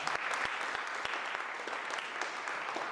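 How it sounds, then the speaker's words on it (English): A live show audience breaks into steady applause, dense rapid clapping with a few sharper claps standing out, moderately loud and continuous without voices. "Give them a round of applause"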